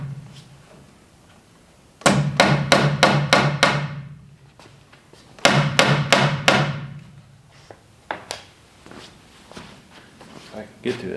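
Two quick bursts of hammer blows, six and then five sharp evenly spaced strikes, drive wire clamps into place while wiring overhead lights in a barndominium, followed by a few scattered taps and light handling noise.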